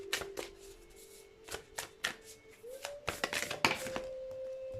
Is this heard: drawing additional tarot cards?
yes